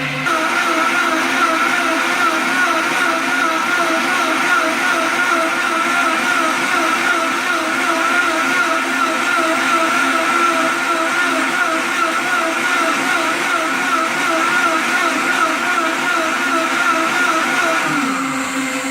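A Vitamix Pro 750 and a JR Ultra Touch Quantum blender run their cleaning cycles side by side, making a loud, steady whirring roar with a wavering motor whine that holds throughout and cuts off near the end.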